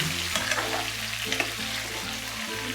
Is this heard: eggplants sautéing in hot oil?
yes